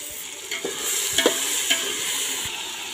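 Tomato with ginger and garlic frying in a pan while cooking outdoors on a hilltop, a steady close sizzle broken by several distinct stirring scrapes, no voices.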